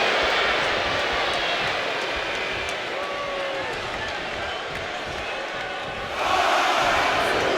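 A wrestling arena crowd in the WWE 2K25 game roars steadily, a dense, loud wash of cheering that holds throughout and swells again near the end.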